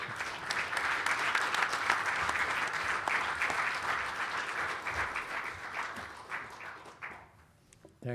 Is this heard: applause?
yes